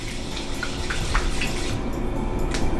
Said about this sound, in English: I'm going to rinse the rice first.